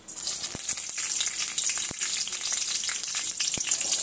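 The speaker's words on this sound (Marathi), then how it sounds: "तर आपण मिरची फ्राय करण्यासाठी टाकलेली आहे।" Green chilies sizzle in hot oil in a pan, a dense, bright, continuous frying hiss with a few sharp crackles and pops, close and fairly loud with no voices.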